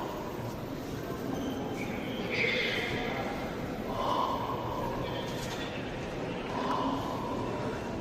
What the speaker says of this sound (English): Now it sounds like that person is snoring.